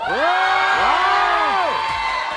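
Studio audience on a Pakistani TV variety show shouting and cheering on the host's cue, a loud sustained crowd roar with whoops and a bright whistle-like tone sweeping up and down over it.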